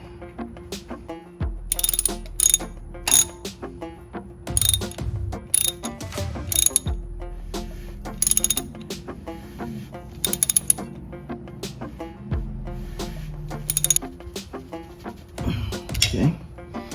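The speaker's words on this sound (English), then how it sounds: "So I'll go ahead and reinstall the drain plug." A ratchet tightens the differential drain plug on a 2014 Jeep Wrangler JK, clicking in rapid close bursts with short pauses between strokes, over a faint steady background hum.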